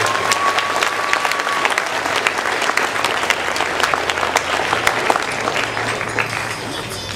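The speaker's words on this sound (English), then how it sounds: "Let's all give them a nice, awesome round of applause." Audience at an anime convention fashion show breaks into steady, dense applause, a continuous wash of many hands clapping at close range with a faint crowd murmur underneath, lasting the whole stretch without a break.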